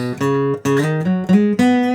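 Guitar notes built around a B root are picked one after another in a short melodic run, clear and close with ringing sustain.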